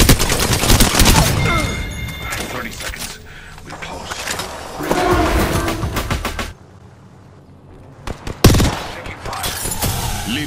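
Rapid bursts of automatic gunfire from the battle royale shooter Apex Legends, loud and close, with dense volleys, a brief quieter lull, then sharp single shots returning near the end.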